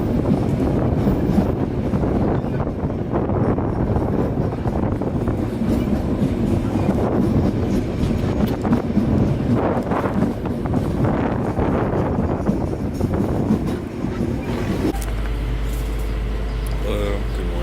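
Passenger train interior in Cambodia, with a steady loud rumble and rattle throughout and faint clickety-clack, shifting to a lower, steadier hum near the end.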